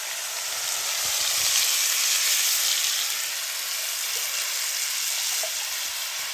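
Loud, steady sizzling hiss as spiced water hits hot tempering oil with mustard seeds, cumin, curry leaves and crushed garlic in a Gujarati home kitchen. It fills the whole stretch with no voices.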